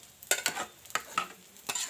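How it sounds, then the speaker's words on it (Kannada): Onion sagu curry is stirred in a pan, with about six distinct scraping strokes of a spoon against the pan in an uneven rhythm and a soft simmer between them. "ಚೆನ್ನಾಗಿ ಮಿಕ್ಸ್ ಮಾಡ್ಕೊಳ್ಳೋಣ."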